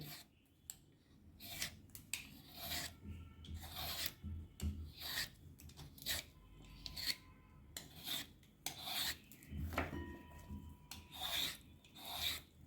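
A hand peeler scrapes the skin off a washed bottle gourd (lauki) in close, repeated rasping strokes with brief pauses between them, with no talking.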